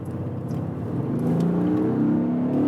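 Audi S6 Avant accelerating out of a corner, its engine note rising steadily in pitch and loudness from inside the car, with no talking.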